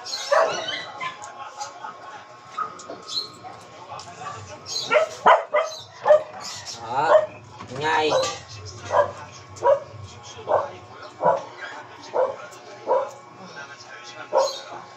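A puppy barks in a regular string of short, sharp yaps, fairly close, while people talk intermittently around it on a hot day.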